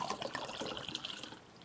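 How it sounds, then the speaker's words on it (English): A cocktail poured into a coffee cup, a short, close, steady liquid trickle and splash lasting under two seconds with no talk. "Give me a minute, I'm pouring a cocktail."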